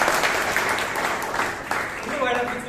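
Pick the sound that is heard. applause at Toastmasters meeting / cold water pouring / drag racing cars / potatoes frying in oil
applause at Toastmasters meeting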